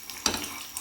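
Peanuts frying red in a tablespoon of oil, a soft continuous sizzle up close with a brief clack of a stirring spoon partway through.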